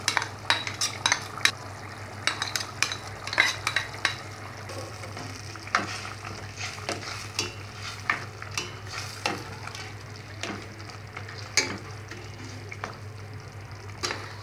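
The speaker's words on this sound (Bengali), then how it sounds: "এ পর্যায়ে আমরা ডালটা ছেড়ে দেব।" Lentils going into beef liver frying in a pan, with steady sizzling and repeated stirring and scraping clatter throughout, close and continuous with no talk.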